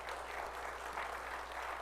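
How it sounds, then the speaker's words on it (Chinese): A church congregation applauds during Sunday worship to welcome a new member, a steady, dense wash of many hands clapping together without pause and with no voices above it. "所以我们拍手来欢迎我们的嘉玉弟兄"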